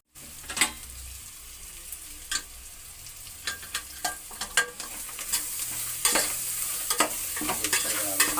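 Potatoes frying and being stirred in a pan for a Kannada-style potato palya, with a steady sizzle and repeated sharp scraping and clinking of a spoon against the pan, close and fairly quiet.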